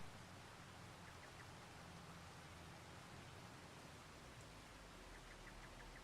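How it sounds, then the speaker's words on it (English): Steady, even rainfall hisses at a distance as a faint, unbroken wash, with no voices over it. "Is it gonna stop raining when it clicks over to 2 a.m.?"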